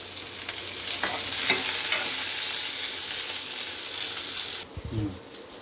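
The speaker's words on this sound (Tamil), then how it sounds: "சின்ன வெங்காயம் உரித்து வச்சுருக்கோம்ல, அதை வதக்க போகிறேன்." Peeled small shallots sauté in hot oil in a pan, a loud close sizzle with stirring scrapes for several seconds, then the sizzle cuts off abruptly and a brief low clatter follows.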